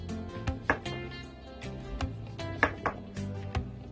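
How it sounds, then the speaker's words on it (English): A knife slices a portobello mushroom into bite-sized vegan pepper steaks on a board, giving a run of close, crisp cuts and knocks spaced unevenly across a few seconds, with no talking. "You want to cut it into bite-sized steaks, like such."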